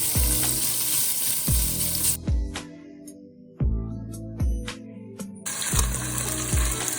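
Mantu filling hits a little oil in a hot pot and sizzles in bursts, with stirring clatter and scraping between quieter gaps, close and moderately loud.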